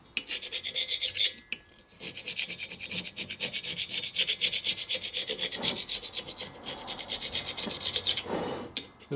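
A carbide gasket scraper is dragged hard across the bare aluminum of a 103ci Harley Twin Cam Dyna cylinder head, giving loud, close, rhythmic rasping strokes with a short pause partway through, and no voices.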